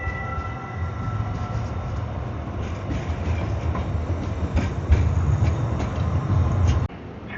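Rumbling train in Portland, Oregon pulls away, a steady low roar with wheel and rail noise building slightly before cutting off abruptly near the end; no talking.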